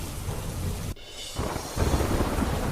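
Heavy rain pours down on Dwarka as streets flood, a steady hiss and patter broken by a brief dip and low rumbling surges, moderately quiet and without voices.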